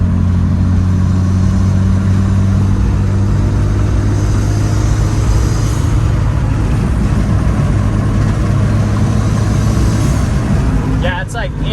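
A turbocharged Evo wagon's engine drones and pulls steadily under throttle from inside the car, a loud low mechanical hum with a rising tone near the end, under ongoing conversation.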